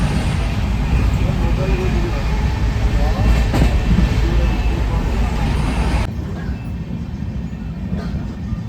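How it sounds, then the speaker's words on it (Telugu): A passenger train on the way to Samarlakota rolls along the rails with a constant loud rumble and faint clatter, heard from inside the carriage, the noise dropping in tone partway through. "ట్రైన్"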